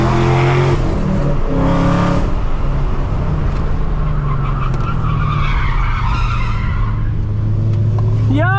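A loud 650 hp Camaro ZL1 drifts, its tires screeching in long sustained skids over a deep roaring engine. The sound is very close and constant, with a rising whine near the end.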